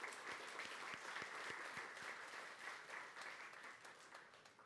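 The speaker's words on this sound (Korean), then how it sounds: "저희 같이 환영의 박수를 보내겠습니다" A church congregation at Sunday worship claps in welcome. The applause is soft, even and sustained throughout, heard from across a large room with no talking.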